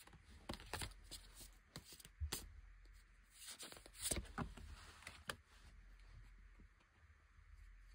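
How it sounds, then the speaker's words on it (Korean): Tarot cards are shuffled and drawn by hand close up, soft papery riffles, slides and light taps in uneven bursts over a quiet room. "카드 뽑아볼게요."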